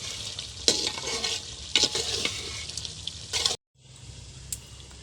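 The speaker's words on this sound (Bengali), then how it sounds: "আমরা একটু পরপর নেড়ে দিব। মাংসটা সুন্দর একটু কষা কষা লাল হয়ে এসছে" Meat frying down until red and dry in a pan with its lid propped up, stirred now and then: a loud close sizzle with clattering stirring strokes, which cuts off abruptly and then returns more softly.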